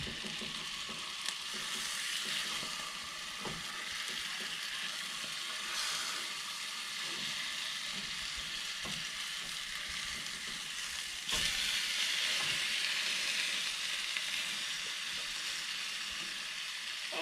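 Salmon fillets sizzle steadily in a frying pan, a continuous close, dense crackle that swells slightly louder partway through, with no talking over it.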